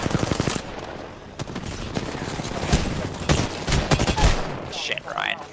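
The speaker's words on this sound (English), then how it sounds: "Shots fired at me." Rapid bursts of automatic gunfire in an Apex Legends arena match, loud and dense with repeated volleys, while a player talks over the shooting.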